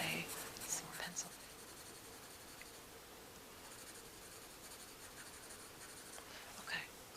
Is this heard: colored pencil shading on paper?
yes